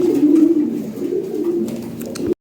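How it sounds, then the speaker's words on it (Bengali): Domestic pigeons ready for delivery coo loudly and close in a low, rolling murmur that runs almost unbroken before cutting off abruptly at the end. "এই যে কবুতর দিয়ে দিতেছি ডেলিভারি"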